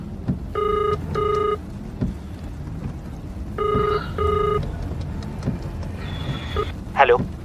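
An outgoing phone call rings back in two pairs of electronic trill tones, with quiet room noise between them and a faint chime and short sweeping tone at the end.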